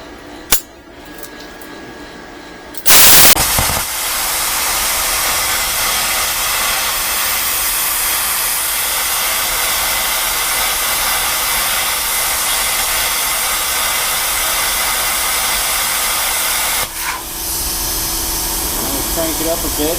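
A 55 amp dual-voltage IGBT inverter plasma cutter cutting thick metal plate, starting with a sharp arc burst, then a loud, sustained roaring hiss for about fourteen seconds before stopping and briefly restarting.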